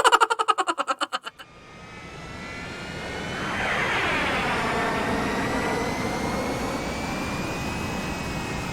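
Aircraft engines in a comedy sketch: after a few pulsing bursts, a jet engine roar rises and swells into a loud sustained whine with a sweeping pitch shift, then drones steadily close by.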